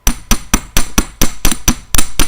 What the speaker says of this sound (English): I hammer out this bottom piece a little bit.